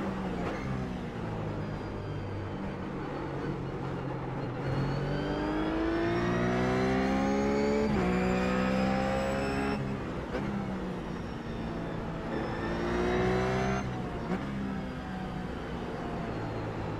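A GT3 race car engine in iRacing at the Zandvoort circuit whines and climbs through the gears in repeated rising sweeps, with brief drops at each shift, loud and continuous throughout.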